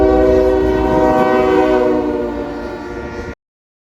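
A freight train horn blares loudly and steadily over the rumble of the train street running past in Elwood, then cuts off abruptly.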